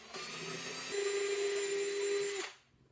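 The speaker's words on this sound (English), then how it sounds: "he drilled a few screws into it" A power drill drives screws through leather into the foam of a classic roadster motorcycle seat, its motor giving a continuous close whine that rises into a strained, steady pitch before winding down.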